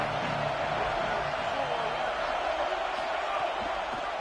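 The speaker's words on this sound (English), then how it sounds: "Third down, and the crowd really getting into it." Stadium crowd at a college football game on third down, a continuous loud roar of cheering that fills the air, with a commentator talking over it.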